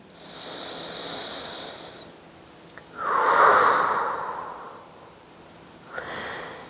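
Deep breaths during a relaxing yoga session: a long, soft inhale, then a louder, fuller exhale, and the start of another breath, close and quiet with no talking.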